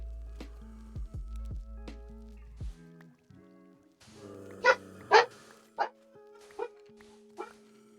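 Several dogs bark from a distance in a video game, a handful of short separate woofs spaced irregularly over a few seconds amid faint game ambience.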